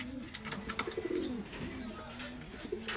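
Pigeons in summer training give soft, repeated low coos close by, with light scattered clicks and rustles and a quiet voice in the background.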